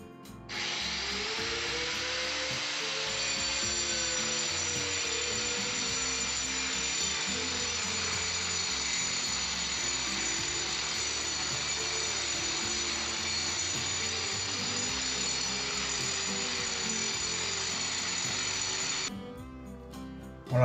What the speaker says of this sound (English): We'll see what difference the grinder makes.